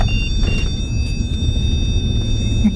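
A moving car heard from the cabin produces a loud, steady low rumble of road and engine noise that runs without a break, with faint high tones from electronics above it.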